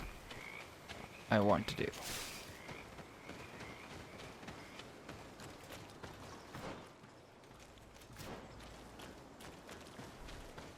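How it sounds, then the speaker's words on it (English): Frogs croaking in the video game GreedFall, a soft, steady ambient chorus under a brief louder thump and a few spoken words, fairly faint throughout. "Ah, the sounds of frogs."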